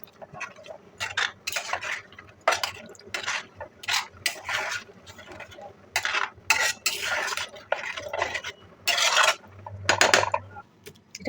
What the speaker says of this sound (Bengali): আমি ভালো করে নাড়িয়ে নিচ্ছি।